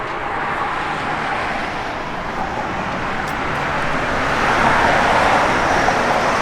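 A 1972 Plymouth Duster with a 727 automatic transmission cruising down the road, heard as a steady broadband road and engine roar that swells slightly louder toward the end, with no talking.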